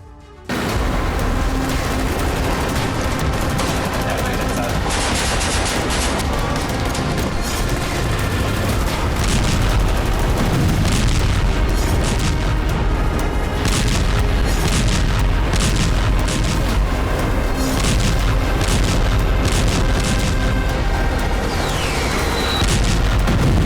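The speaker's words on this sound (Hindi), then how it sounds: "आसमान से लेकर प्रचंड बारूदी प्रहार भी किया जा रहा है" Heavy bombardment in Khan Younis, southern Gaza: a continuous dense barrage of booms, blasts and gunfire bursts, loud and sustained throughout with no pauses and no speech.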